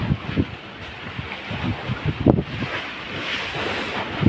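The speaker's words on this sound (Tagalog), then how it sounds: "maririnig natin, nakikita yung alon na medyo swell talaga ngayon." Ocean swell surges and splashes under heavy, buffeting wind noise from the strong Amihan wind, with irregular low rumbling bursts and gusts hitting the microphone.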